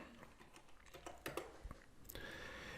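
Keys on a computer keyboard are typed in short, irregular bursts of close clicks, quiet overall, with a sharper tap cluster near the end.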